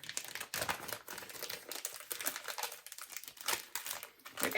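A plastic sealed bag holding iron cleaner is torn and opened up close, giving a burst of crinkling, rustling and crackling plastic noises in irregular bursts.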